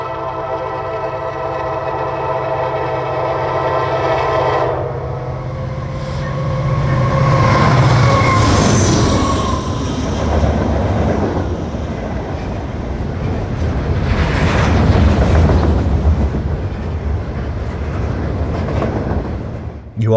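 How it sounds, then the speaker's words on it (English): A unit train loaded with steel slabs rumbles past with a deep, loud, continuous roar that swells twice as cars roll by, with a horn sounding early before the rolling noise takes over. "You always know these trains are going by from the low-pitch rumbling that can be heard miles away"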